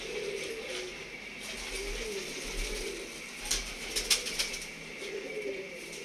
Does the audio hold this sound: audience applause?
no